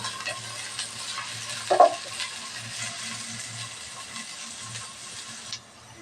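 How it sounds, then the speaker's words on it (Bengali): Chopped onion and four chillies fry in hot oil in a pan, giving a steady moderate sizzle with a brief louder clatter of stirring near the middle, cooking greens at home. "খালি পেঁয়াজটা আমি ভালোভাবে ভেজে নেব"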